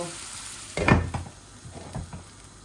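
Courgette and eggplant fry in a pan, a moderate sizzle under a few brisk stirring scrapes and a clatter of utensil against the pan, loudest near the start.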